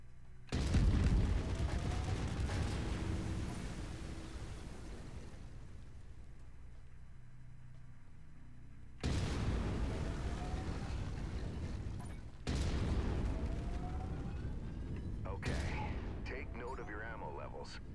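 A mech's autocannon in Mechwarrior 5 fires three heavy booming blasts, each ringing out into a long rumbling decay, loud and close, with spoken voices in between.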